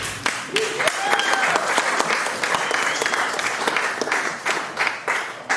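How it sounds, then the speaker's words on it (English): Audience applause for performers at a comedy show fills a room, dense and steady clapping with a few sharper claps standing out, and a voice briefly sounding over the crowd. "That's a really generous round of applause, but I don't think it was enough."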